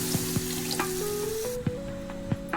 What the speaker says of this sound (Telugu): ఆనియన్స్ టమాటోస్ అనేవి బాగా దగ్గరికి అయిపోయాక మనం ముందుగా ఉంచుకున్న చింతపండు రసం అనేది అందులో వేసుకోవాలి